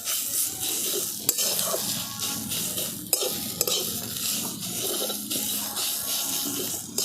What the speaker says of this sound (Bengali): এরপর আমি সব কিছু খুব ভালো করে একসঙ্গে মিশিয়ে নিচ্ছি।